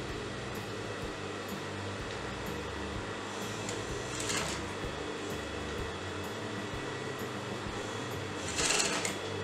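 A sewing machine stitches the sleeve of a kurti, a steady mechanical whir with a fast, even rhythmic chatter running throughout under a faint room hum, with no talking.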